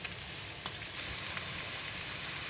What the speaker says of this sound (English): Now all of the shrimps are in the pan.